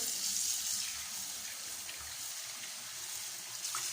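Running lukewarm water splashes over tripe being washed in a kitchen, a steady hissing flow with faint bubbly trickles, close and fairly quiet, with no talking.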